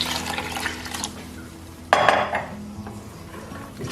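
A spoon scrapes and clinks against a cooking pot while a kadhi pakora mixture with about a litre of water is stirred, with a louder clatter partway through.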